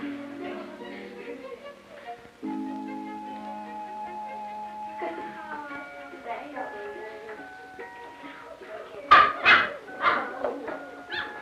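Puppies at play break into a burst of sharp yips and short barks near the end, rising over steady background music that carries most of the stretch.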